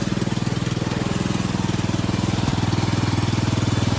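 A cheap old lawn mower engine bought for sixty dollars runs at a steady, rapid idle close by, with a continuous low throbbing chug and no voices.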